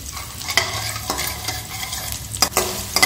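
Potatoes with asafoetida fry in a pan, a steady close sizzle broken by several sharp scraping stirs of a spoon against the metal.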